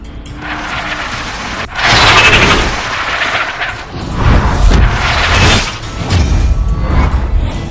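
Rapid bursts of gunfire and heavy impacts from the video game Tales from the Borderlands, loud and continuous in several surging waves with no talk over them.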